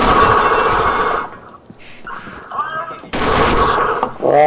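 Close automatic gunfire in the shooter game Combat Arms comes in two loud sustained bursts separated by a brief quieter gap of smaller effects.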